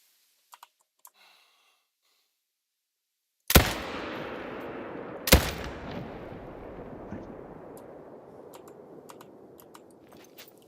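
Two loud rifle shots fired at a buck in theHunter: Call of the Wild, spaced about two seconds apart, each followed by a long rolling echo that fades slowly, after faint clicks in near silence.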